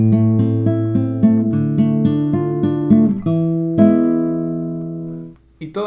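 The second section of a waltz played alone on a classical guitar, with arpeggiated chords and bass notes in a steady triple feel that slows toward a final ringing chord and a brief pause, close and solo.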